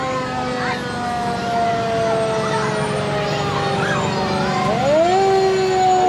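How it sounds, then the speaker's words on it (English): An old fire truck's siren wails through a Christmas parade, loud and close, its long rising and falling tones sweeping up again near the end over street noise. "The old fire truck."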